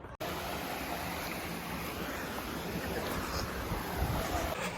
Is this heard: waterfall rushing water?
yes